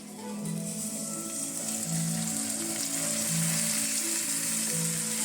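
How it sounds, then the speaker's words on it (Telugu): Boiled milk poured into hot ghee in a pan sets off a soft, hissing sizzle that swells and holds steady over a few seconds, close by, with faint tonal hums beneath. "ఇప్పుడు ఇందులోని పాలు వేద్దాం"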